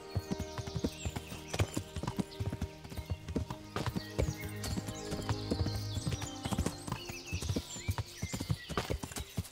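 Steady clip-clop of horse hooves walking at an even pace through a forest in Kingdom Come: Deliverance, close and distinct, with a brief whinny and faint background sounds.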